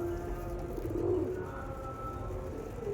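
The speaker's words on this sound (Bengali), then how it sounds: "এটা ব্রিডিং পেয়ার আছে, টপ কোয়ালিটির পায়রা।" Pigeons of a breeding pair, Andhra Mangalagiri Lalsira type, coo softly and steadily at close range over a low background hum, with no talking.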